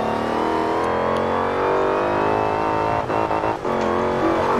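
A car engine in the racing video game Forza Horizon 4 revs and accelerates, a loud sustained roar that rises and holds, with brief stutters and gear-change dips near the end.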